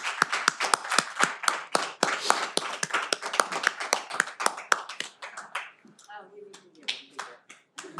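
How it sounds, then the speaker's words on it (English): Graduation ceremony audience for the class of 2021 claps in a dense, lively burst of many hands that thins out into scattered claps near the end, heard close and clear. "Let's have a final round of applause for our class of"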